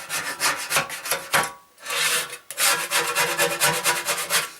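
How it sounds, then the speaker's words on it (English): Old rusty paint is scraped off the front panel of a Land Rover Series III, the blade grating hard across softened metal in rough strokes, close and loud, with brief pauses between passes. "I'm going to scrape off as much of the paint as I can"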